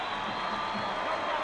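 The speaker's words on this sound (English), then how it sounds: "getting a round of applause because he's appeared on the big screen" A stadium crowd at a rugby league playoff match applauds in a steady, distant wash of clapping and faint cheering, moderately quiet and continuous throughout.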